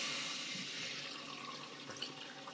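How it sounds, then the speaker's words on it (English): Tap water runs into a plastic bottle at a sink, a steady hissing, splashing stream with faint gurgles, close and fairly quiet, with no talking. "you can go to your sink and fill up your bottle of smart water with some water"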